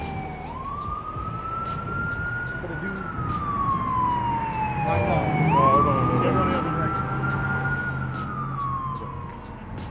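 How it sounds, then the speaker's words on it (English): An ambulance siren wails as it passes along a city street in Philadelphia, its pitch sweeping up and down and dropping as it goes by, with traffic noise and a brief voice nearby. "Oh, look, it's an ambulance."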